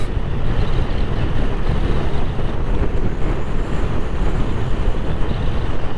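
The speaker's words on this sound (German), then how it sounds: "Der läuft sehr ruhig, ganz angenehmer Motorlauf" A Vespa scooter engine drones steadily without a break, a smooth low rumble with some rushing wind noise layered over it.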